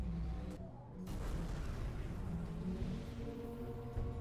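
An enemy blowing up in the game Aeterna Noctis, a sudden muffled boom that swells into a sustained rumbling roar, alone without talk.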